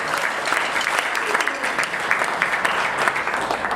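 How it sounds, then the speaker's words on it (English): Audience applause for the staff at a drum festival, continuous dense clapping from a sizable crowd heard close and steady throughout, with no voices standing out. "How about one more time a round of applause for Tom Lee and all the great staff and help."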